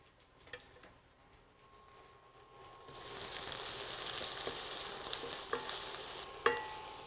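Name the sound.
sautéing curry leaves and diced onion in a pan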